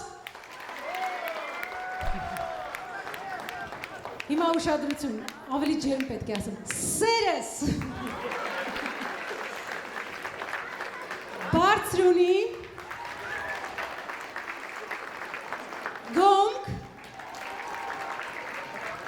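An audience at a 60th anniversary celebration of Vayk claps in steady applause that keeps going under someone speaking over a microphone, who reads out place names and talks continuously.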